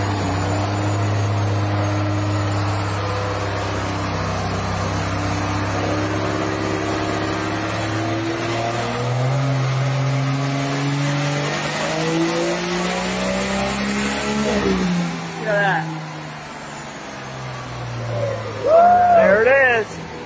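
A 472 engine in a project car roars hard on a dyno power run, a loud sustained drone that climbs in pitch before cutting off, followed by a brief squeal and rattle.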